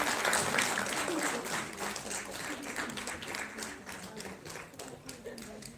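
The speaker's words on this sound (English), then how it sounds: "taking a big round of applause for Miss Ekta Gupta" A round of applause from the crowd at a women's health conclave in Chandigarh as a guest walks up onto the stage, steady mid-distance clapping with a murmur of voices mixed in.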